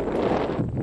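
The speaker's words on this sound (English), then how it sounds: "Windy." Wind gusts across open ground at the Griggstown Bird Sanctuary, giving a brief, steady, low rumbling roar close to the microphone.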